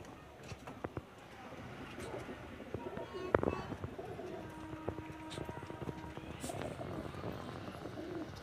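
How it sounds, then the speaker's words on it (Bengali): Breeder pigeons, including a female, cooing softly in short low calls at a modest distance, with a voice speaking now and then and a faint aircraft-like drone underneath. "আমার ব্রিডার পায়রা এগুলো"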